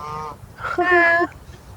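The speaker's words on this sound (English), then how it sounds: "Take a moment for the geese." Geese honking outdoors during a summer outing, two loud, close nasal honks with a short gap between them, the second longer and stronger, over light background noise.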